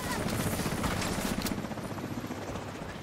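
Helicopter rotor thumping in a video game during a firefight, a steady low chopping drone that stays loud and close throughout, with gunfire-like crackle mixed in and no talking.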